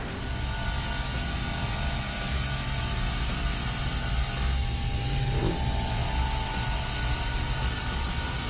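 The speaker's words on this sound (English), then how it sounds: "going over the parts with a Nampower abrasive brush to help clean up any chips or burrs left from the engraving" An abrasive brush works over freshly engraved, milled metal airplane parts in a shop, a steady broadband whir and grinding hiss holding constant throughout with no talking.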